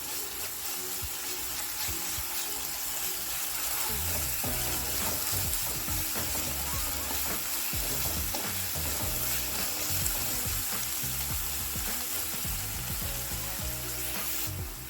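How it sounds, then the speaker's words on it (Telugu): Ginger garlic paste frying with chopped onions in a pan for a stuffed brinjal curry. A loud, steady sizzle runs throughout, with scattered stirring scrapes and no voices. "ఈ ఆనియన్స్లో 1 స్పూను అల్లం వెల్లుల్లి పేస్ట్ వేసి ఫ్రై చేసుకోవాలి."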